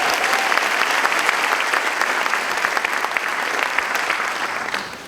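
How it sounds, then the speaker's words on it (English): Sustained applause from an audience for student speakers at an Arab community event, a dense, even wash of many hands clapping for about five seconds before easing slightly at the end. "I think they deserve another round of applause"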